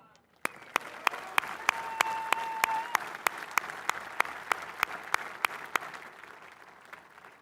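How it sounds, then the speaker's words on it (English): A large audience applauds at a US Marine Corps 250th anniversary celebration, with sustained clapping marked by sharp, evenly spaced loud claps that cut through the crowd's steady patter. "Let's give a round of applause to the men and women who made this happen."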